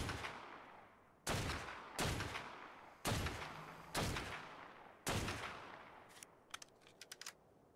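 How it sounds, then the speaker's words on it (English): Rifle shots ring out in modded Ark Survival, six sharp cracks spaced about a second apart, each trailing a long echoing decay, followed by a few quick faint clicks like key taps. "I'm sniping it from a distance."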